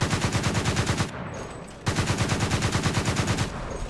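Twin 35mm autocannons on a Gepard self-propelled anti-aircraft gun fire in War Thunder, loud rapid bursts of booming shots, a long burst, a short pause, then another sustained burst.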